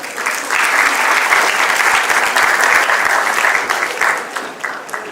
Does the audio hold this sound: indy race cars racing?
no